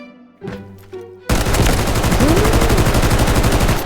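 Rapid automatic gunfire from a picked-up weapon in the mobile shooter Delta Force Mobile, a dense, steady burst that starts abruptly after a few quieter game sounds and keeps rattling loudly to the end.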